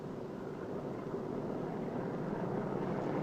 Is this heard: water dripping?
no